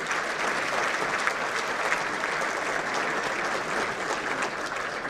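Steady, dense applause from a banquet audience at a 2017 César Chávez breakfast honoring the Glendale Fire and Police Honor Guard, sustained and even throughout with no voices on top.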